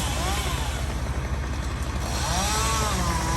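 A chainsaw cuts through a parkway tree during street tree trimming, a steady, fairly loud outdoor engine whine that fills the whole stretch.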